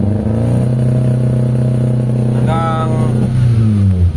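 Car engine revved with the gas pedal floored yet making low power, topping out around 3,700 RPM; a steady, loud low drone that holds without climbing, with a brief higher whine midway and the pitch dipping near the end.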